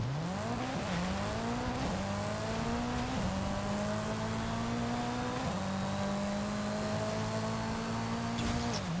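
A Mitsubishi Lancer Evo 6 with an 844 hp AWD drag tune launches hard in the rain in Forza Horizon 5, its engine screaming up through several rising gear pulls with sharp drops at each shift, loud and continuous.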